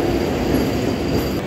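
A loud, continuous rolling rumble from the 16-coach Kacheguda–Yesvantpur Vande Bharat express moving along a station platform, close up, with a thin high whine above it.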